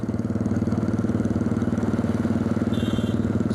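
A motorcycle engine on a highway in Gujarat thrums close and steady with a rapid even pulse, among customized bikes riding nearby.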